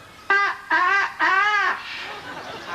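Three short, strained rooster-like calls in quick succession, reedy and harmonic, as a parrot mimics a rooster's crow; faint murmur follows.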